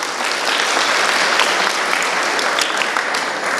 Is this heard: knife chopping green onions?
no